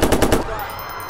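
Rapid automatic gunfire from the video game Watch Dogs, a loud burst of about four quick shots followed by a decaying echo tail.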